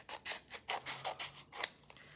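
Scissors cut out paper in a quick series of about eight soft, crisp snips, close and fairly quiet, with no talking.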